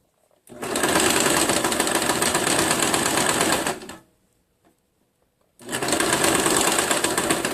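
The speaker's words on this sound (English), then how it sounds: "Back stitch." A sewing machine runs a back stitch on a garment sleeve in two loud, fast mechanical bursts of rattling stitching, separated by a short quiet pause.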